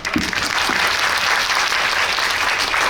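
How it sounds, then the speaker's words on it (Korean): A cinema audience claps steadily, a dense continuous patter of applause at moderate volume with no voices standing out. "박수로 시작하겠습니다"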